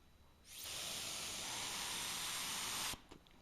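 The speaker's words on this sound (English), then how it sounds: "So that sprays wood ash finely over the surface" Wood ash glaze sprayed finely over a pottery bowl: a steady, fairly loud airy hiss that starts abruptly, holds evenly for about two and a half seconds, then cuts off, with quiet room tone around it.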